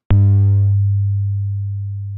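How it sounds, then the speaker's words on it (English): A pure 100 Hz sine tone generated in Mathematica starts abruptly and fades smoothly over about a second like a plucked string, a single clean low hum with nothing else. "So here I've got Mathematica playing a sinusoidal tone,"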